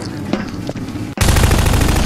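Rapid gunfire in the video game Garry's Mod during a prop hunt match, a loud, dense burst of shots erupting suddenly about a second in and continuing steadily to the end after quieter game ambience.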